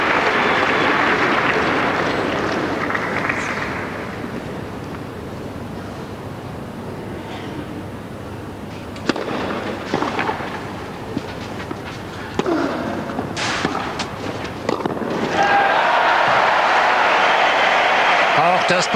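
Tennis audience at the 2003 Hamburg tournament applauding during Hewitt versus Hantschk, a swelling burst of clapping that fades under a commentator's voice, then rises again loudly near the end.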